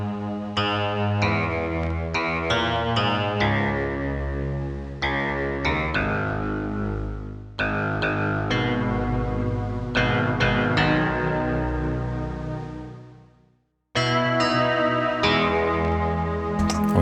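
A Circle Cynths OBSO synthesizer plays bright sustained notes and chords through a chorus-like effect, with repeated note attacks over a droning bass, a fade to silence near the end, then a return.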